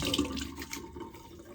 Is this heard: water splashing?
yes